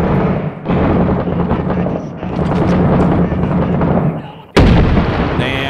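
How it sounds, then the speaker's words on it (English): Big bomb explosions in Six Days in Fallujah, loud and continuous with dense rumbling blasts for several seconds, a fresh sharp detonation near the end, set against battlefield noise. "Damn, big bombs."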